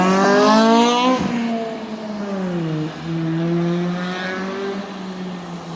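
Loud truck and car engine exhausts rev close by, pitch climbing and dropping through several rises, one engine's drone overlapping the other.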